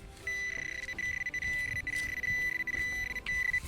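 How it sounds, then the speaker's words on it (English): A Garrett AT Pro metal detector gives a steady high-pitched electronic tone, loud and clear, wavering slightly as it sweeps, over faint scraping and rustling. "it's now a lovely signal and very loud, very clear"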